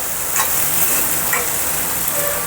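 Prawns fry in a hot pan for a Telugu prawn curry, giving a steady, close, loud sizzle with a few brief sharper crackles and no talking.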